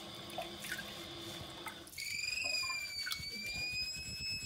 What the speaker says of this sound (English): You just keep pushing it down and it will go down.